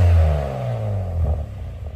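A BMW G87 M2 with a Valvetronic catback exhaust revs with its exhaust valves closed, giving a loud, close, deep engine swell that rises and settles over two seconds with no talking.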